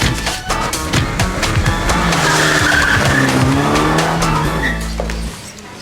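A car pulls away hard with a loud, sustained tire screech and roaring engine lasting several seconds, then cutting off abruptly near the end; no one speaks.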